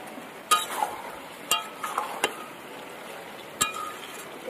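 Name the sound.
cooking pot lid being opened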